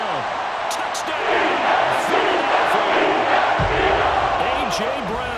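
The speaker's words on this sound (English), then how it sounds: "wake up this home crowd" Home crowd in the Madden NFL 24 football video game roars steadily after an Eagles touchdown, a dense, sustained stadium cheer with scattered whoops, the game commentator's voice running over it.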